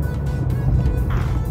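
A car drives continuously along a mountain road on a long road trip, its steady low engine and road rumble filling the whole stretch at close range with no talk.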